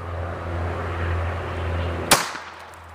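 A single sharp crack of a .25 ACP Raven pistol fired from about four feet into a hard coconut and water, standing out against a steady low background hum and followed by a brief rattle as it fades.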